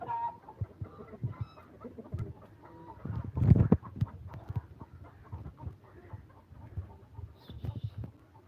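Hens cluck softly and steadily nearby, with a louder flurry partway through and scattered calls continuing over low background noise.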